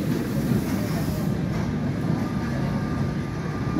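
The Sóller tram in Mallorca rumbles along its rails, a steady low rolling drone with faint clicking, moderately loud and continuous, with a thin squeal appearing partway through.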